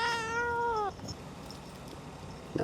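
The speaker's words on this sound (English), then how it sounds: "I'm looking at my cat." A pet cat named Muffin lets out a single clear, close meow in a rising-then-falling wail lasting under a second, followed by quiet room noise and a small sound at the end.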